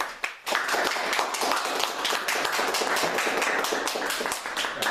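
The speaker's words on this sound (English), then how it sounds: "please give a round of applause for Tabitha Ward." An audience gives a round of applause for a speaker at a Brooklyn Tea Party gathering, sharp close claps joined by a crowd in an even, sustained burst.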